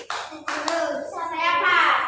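Children in a classroom do a rhythmic group clapping chant, sharp claps at the start followed by voices chanting together, close and fairly loud.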